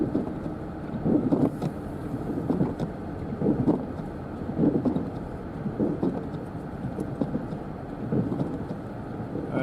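A snowplow works Donner Pass during a March snowstorm, heard as a continuous low rumble from inside a vehicle, with wind noise and regular swelling pulses and no speech.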